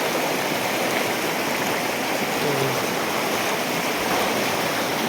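A river rushes along a mountain route with a steady, dense roar of flowing water. It stays loud and unbroken from start to finish, with no clear voices above it.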